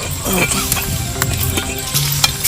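Hot oil sizzles steadily as fenugreek seeds and dried red chillies are tempered in it, while a spoon stirs and scrapes the pan in quick strokes, close by, with no talking.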